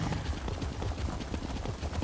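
A mount's hooves clip-clop in The Elder Scrolls Online, a quick, even run of close hoofbeats on hard ground with no voices.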